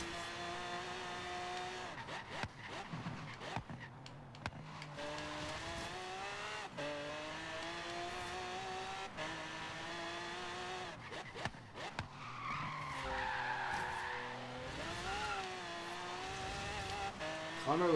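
An all-wheel drive car races in Forza Horizon 3, its engine note rising and falling through repeated gear changes, with tires squealing in skids and a voice talking over the driving.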